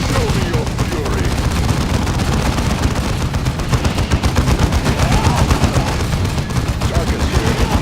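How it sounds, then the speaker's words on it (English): Dense bolter gunfire fills a battle in the video game Dawn of War 2, loud rapid overlapping bursts in a nonstop fusillade, with voices mixed into the din. "Get Tarkus moving forward while he's shooting his bolter."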